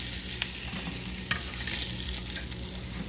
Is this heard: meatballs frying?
yes